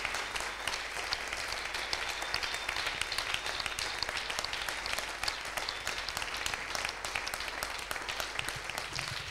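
A church congregation at a prayer marathon applauds in worship, sustained dense clapping from many hands filling the room at an even, continuous level throughout.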